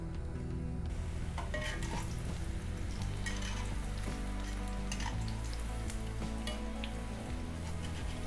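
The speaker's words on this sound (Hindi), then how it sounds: "अब हम कर लेते हैं पकौड़ों को फाइनल फ्राई। डीप फ्राई करने के टाइम तेल बिल्कुल अच्छा गर्म होना चाहिए" Vegetable pakoras deep fry in hot oil for their final fry, giving a steady, dense bubbling sizzle close by with occasional clinks of a metal spoon or pan.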